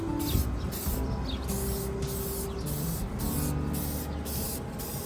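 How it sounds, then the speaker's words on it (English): Aerosol spray sealer coat applied to a painted thrifted lamp: repeated hissing spray bursts in short rhythmic pulses, close and steady, over a busy background of music. "I'm going to give my finished piece a spray sealer coat"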